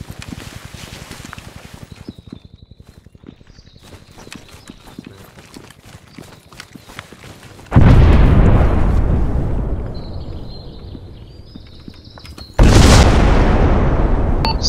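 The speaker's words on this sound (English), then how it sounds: "Keep moving, there's artillery coming down on this hill." Artillery shells slamming onto a hill in Arma 3's SOG Prairie Fire setting: two heavy, loud booms several seconds apart, each with a long rumbling decay, over quieter battlefield clatter before the first.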